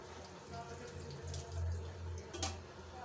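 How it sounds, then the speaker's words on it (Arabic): Hot water runs from a tap while a teapot is rinsed, a faint steady splashing and trickle with a low hum underneath, close by and brief. "نشلو البراد نشلو بما سخون"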